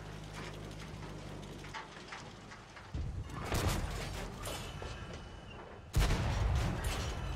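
Tank cannon shots from the TL-1 LPC in World of Tanks on console, with a few sharp booming blasts over a steady rumbling engine bed, heard up close with no talking.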